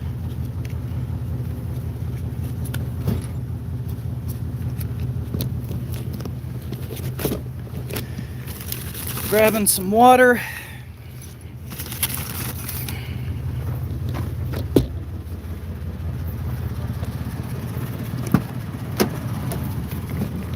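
A fire truck's engine idles with its air conditioning running, a steady low rumble throughout, while a person speaks briefly over it and small clicks and knocks sound in the cab.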